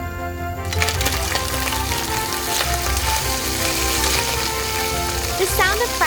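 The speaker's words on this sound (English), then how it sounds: "The sound of frying fat is very soothing." Fish sizzles and crackles steadily in hot oil in a miniature kitchen, a close, continuous fry heard alone without talk.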